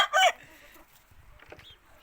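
A rooster and hens at a Punjabi pigeon-keeping yard let out a loud, close burst of clucking lasting about a quarter second. Fainter, scattered fowl sounds follow.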